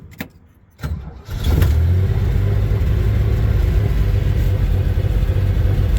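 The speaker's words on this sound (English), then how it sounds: "Give it some gas." A former fire department Jeep CJ6 cranks with a few brief bursts, then fires up and revs into a loud, steady mid-pitched engine roar that holds to the end.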